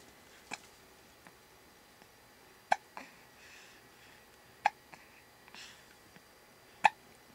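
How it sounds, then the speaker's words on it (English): A baby hiccups about five times at irregular intervals, each a short, sharp, close gasp in an otherwise quiet indoor room, with faint breathy stirrings between them. "Through the hiccups?"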